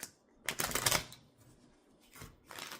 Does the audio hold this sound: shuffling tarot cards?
yes